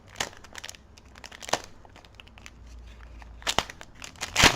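Plastic packaging around a pack of fake Yu-Gi-Oh trading cards crinkles and crackles as someone struggles to open it, sharp irregular bursts of crumpling and tearing, close and fairly loud, with no talk.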